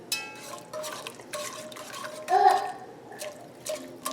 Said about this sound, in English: So I'm going to get a whisk and mix everything in here.